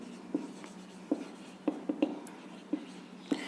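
Chalk or marker writing by hand on a board during a maths class, sounding as a string of short, distinct taps and strokes at an irregular pace, fairly close, with no talking.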